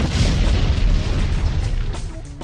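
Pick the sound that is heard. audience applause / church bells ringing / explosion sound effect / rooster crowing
explosion sound effect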